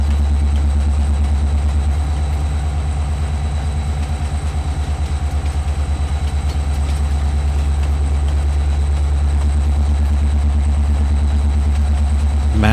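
A locomotive in Farming Simulator 22 rumbles with a loud, constant low-pitched engine drone that holds steady throughout, like a heavy diesel running at a continuous pace.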